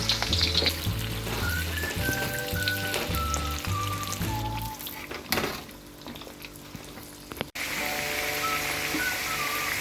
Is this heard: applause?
no